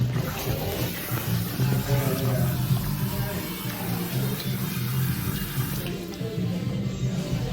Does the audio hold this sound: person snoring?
no